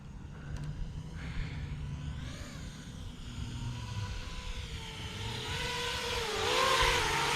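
An iFlight Morgoth X5 FPV drone flies with a steady motor hum, its high buzzing pitch sweeping up and down as the throttle changes, growing louder toward the end.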